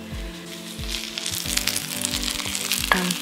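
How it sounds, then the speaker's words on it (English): Cheese spaetzle fresh from the oven sizzles and crackles in a pan with a steady frying hiss, and faint scraping knocks repeat underneath. "sizzling, delicious,"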